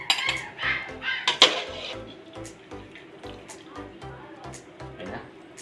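Ladle scraping and clinking against a pot while scooping cooked sinanglaw, an Ilocano beef stew, with metallic knocks and dull thumps in a steady rhythm, close by, alongside some liquid sloshing and faint background talk.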